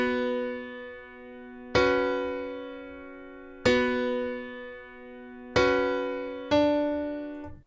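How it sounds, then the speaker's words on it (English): Keyscape pop piano playing sustained chords in a beat pattern, four struck chords spaced about two seconds apart, each ringing and slowly fading, close and clear with no voices. "So next up we got this piano. Looked like the keyscape pop piano."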